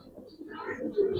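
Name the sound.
domestic pigeons cooing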